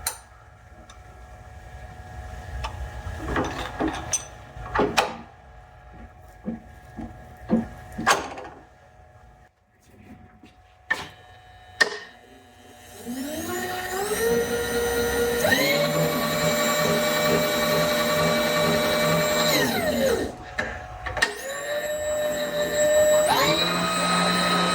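A knee power feed motor on a PM-1054 milling machine: scattered clicks and taps, then a steady whine that winds up, runs for several seconds, stops, and briefly starts again.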